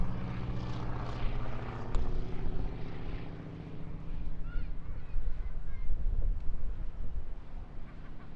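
A propeller display aircraft at the Eastbourne International Airshow carries a wing walker as it flies past, a loud droning engine roar that swells and pulses throughout, with faint crowd and commentary sounds underneath.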